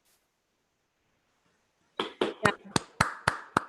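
Handful of sharp, isolated claps from a remote audience at a cryptography conference opening, about seven distinct claps in an uneven rhythm after near silence, close and dry.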